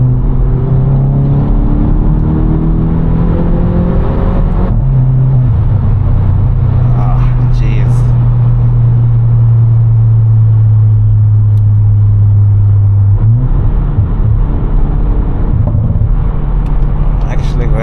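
A VW Polo GTI AW facelift with 280 hp drives at night in third gear, its engine droning with a steady loud hum and rising tone through a shift, under constant road rumble.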